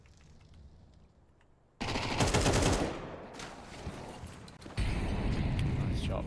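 Gunfire from Counter-Strike on the Anubis map during an ESL Challenger Jönköping match: two loud bursts of rapid shots break in after a quiet start, with a caster's voice talking over them.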